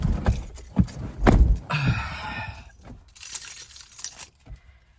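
A bunch of keys jangles and clinks up close in several bursts, with metallic shaking and a few knocks and thumps of handling between them.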